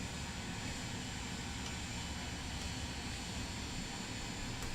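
A simulated airplane engine drones at a steady low rumble during takeoff in Microsoft Flight Simulator 2024, an even continuous hum with no voices.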